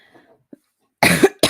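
A person on a live talk stream coughs twice, close to the microphone: a strong burst followed by a shorter second one, after near silence with only a faint breath or click.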